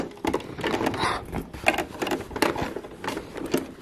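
Rapid mechanical rattling and tapping of a sewing machine stitching bias tape in short bursts, close by, with a busy clattering texture.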